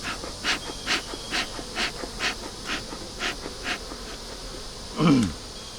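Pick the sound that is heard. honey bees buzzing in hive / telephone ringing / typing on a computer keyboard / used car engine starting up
honey bees buzzing in hive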